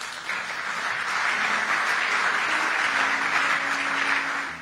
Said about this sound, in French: On peut acclamer, pourquoi pas